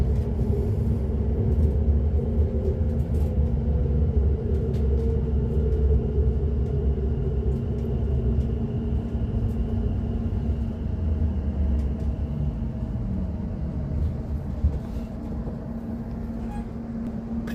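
Inside a moving carriage of the Southend Pier train, a continuous low rumble and rolling drone hold steady throughout, with faint rattles and creaks layered on top.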